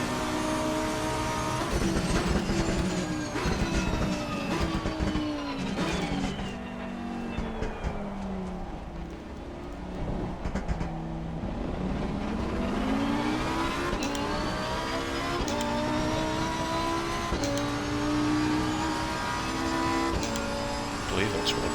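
Super Trofeo race car engine in an Xbox racing game, a continuous loud revving drone with rising and falling pitch through gear shifts, dipping briefly midway before climbing again, with talk over it.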